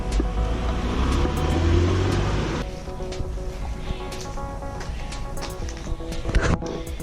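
A homemade green trike with welded rod frame rolls along on a test drive, its motor and wind rumble loud and steady at first, then easing into a lighter road noise with scattered knocks.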